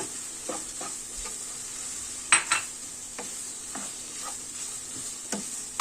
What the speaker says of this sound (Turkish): Ha, karıştıralım şöyle lezzet versin.